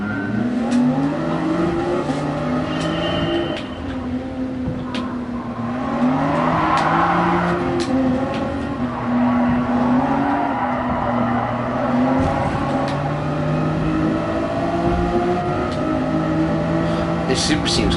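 A Toyota Supra race car engine in Gran Turismo Sport, a steady, loud, harmonic drone with shifting pitch as the car accelerates, with tire squeal and other cars around, under a speaking voice.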